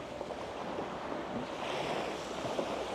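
Sea waves wash steadily onto the shore in Odesa, a continuous close roar of surf with wind rushing across the microphone.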